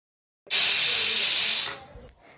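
A kitchen pressure cooker cooking brinjal lets off a loud, sharp steam hiss from its whistle that starts abruptly, holds steady for over a second, then cuts off and fades to a faint residual hiss.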